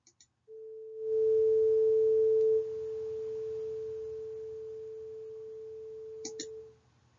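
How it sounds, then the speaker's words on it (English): A pure 440 hertz middle A sine tone sounds as one steady electronic note that swells in, holds evenly for about six seconds, then fades out, with faint clicks at either end. "here is a pure kind of middle A, a 440 hertz tone"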